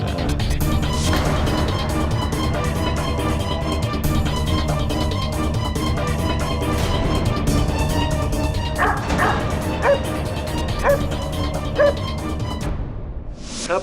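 A dog barking repeatedly in yips and bow-wows, loud and close, over a dense dramatic music bed that cuts out abruptly at the end.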